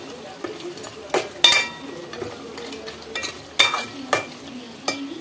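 A spoon stirs chicken curry in a metal pot, giving a soft sizzle broken by sharp scraping clinks against the pot at an uneven pace.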